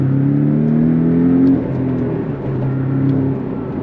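A Porsche 718 Cayman's 300-horsepower flat-four engine revs up and holds a loud, close, droning tone, dips briefly, then climbs again, with no voices over it.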